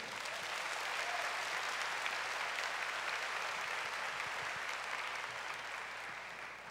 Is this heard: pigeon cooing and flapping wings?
no